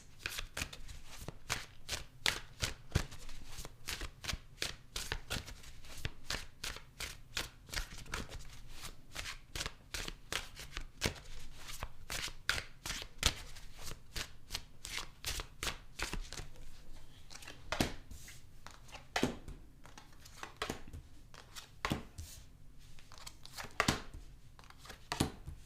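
Tarot cards are shuffled continuously and quietly at close range, making a rapid run of crisp riffling slaps and flicks in an uneven but steady rhythm.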